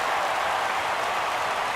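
A baseball stadium crowd in MLB The Show 17 roars steadily as fans rise for a full 3-2 count, a dense, continuous wash of cheering with no pauses.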